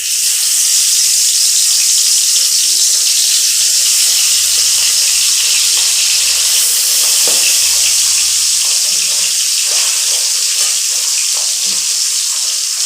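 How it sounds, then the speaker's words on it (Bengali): Pabda fish frying one by one in hot oil in a wok, a loud, steady close-up sizzle with crackling bursts running throughout, no talking over it. "এখন আমি মাছগুলো দিয়ে এক এক করে ভেজে নেব।"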